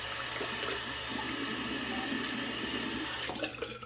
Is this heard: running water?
yes